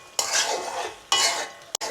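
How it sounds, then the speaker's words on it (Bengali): Boiled potatoes are stirred and sautéed in a pan, with two scraping strokes of a spoon against metal followed by a brief clink and another short scrape. "এখন একটু কষিয়ে নেব।"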